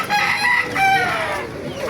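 Many roosters crow at once at a chicken market in Baliuag, Bulacan, amid a loud, bustling crowd of birds, their calls overlapping continuously and clucking underneath.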